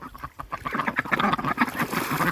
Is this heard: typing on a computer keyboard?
no